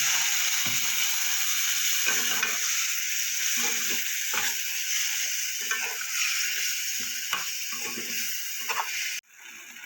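Spice paste sizzles and scrapes in a hot pan as a little spice water is stirred in while cooking a Bengali prawn curry, a steady broadband fry with rhythmic clicks of a spoon against the pan, continuous and close until it cuts off abruptly near the end.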